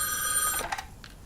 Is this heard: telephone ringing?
yes